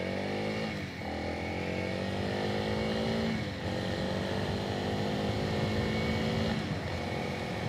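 A stock Honda CRF300L dual sport motorcycle on the move, a close buzzing single-cylinder engine climbing in pitch through the gears with short dips at each shift, steady and fairly loud.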